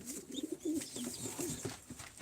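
Pigeons coo in soft, low, throaty bursts that repeat unevenly, close by and fairly quiet, with faint rustling in the background.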